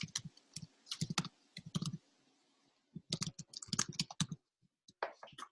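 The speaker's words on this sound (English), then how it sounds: "I'll type that in here too." Typing on a computer keyboard in a quiet room: close, crisp bursts of key clicks in irregular clusters, separated by a brief pause, with no speech.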